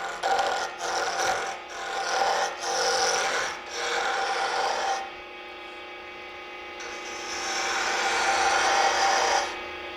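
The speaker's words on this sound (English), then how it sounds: "I'm using a 1/2-inch gouge." A half-inch gouge cuts a small wooden marble on a wood lathe, making a steady rasping scrape with brief interruptions. There is a short pause midway, then the cutting resumes and holds loud and continuous.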